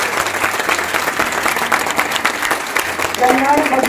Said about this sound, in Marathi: सर्वांनी आपल्या शेजारी असणाऱ्या स्वामींच्या भक्तासाठी जोरदार टाळ्या वाजवायच्या.